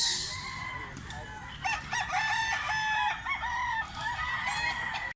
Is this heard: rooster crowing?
yes